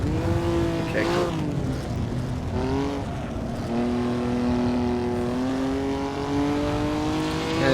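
Historic 1950-era Formula 1 race cars lapping Silverstone in the Assetto Corsa game, a loud continuous engine drone with rising and falling pitch as gears shift, steady and close throughout with no talking.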